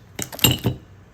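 A few bright metallic clinks as poured silver bars knock against each other, close up, in a quick cluster of two or three strikes.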